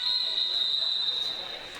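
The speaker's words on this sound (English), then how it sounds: "Whistle blown, and we're going to get an exclusion call." A referee's whistle at a girls water polo game sounds one long, steady, shrill blast that fades slightly at the end.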